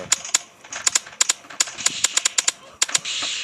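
Gunfire in the Roblox video game, a rapid series of sharp cracking shots in uneven bursts, close and loud, ending in a short noisy burst.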